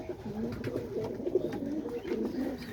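Pigeons coo softly and steadily in a pigeon loft with young birds, a continuous murmur of overlapping low coos close by, without talk.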